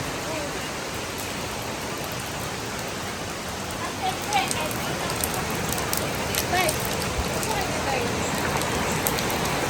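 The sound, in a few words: heavy rain falling on a farm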